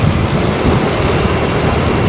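Heavy rain pours with a thunderous rumble during a road trip, a dense, loud, continuous wash of noise with a deep low roar underneath and no talking.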